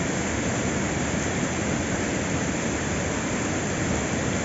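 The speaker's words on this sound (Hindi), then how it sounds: "पहाड़ों से ये पानी आ रहा है नीचे की तरफ।" Steady, loud roar of Pandav waterfall in Panna, water plunging down from high hills into a pool, a continuous broadband rush with no breaks and no voices.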